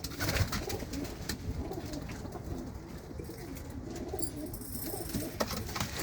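Pigeons coo repeatedly at a loft, soft throaty calls layered over a steady murmur of cooing birds, moderately near.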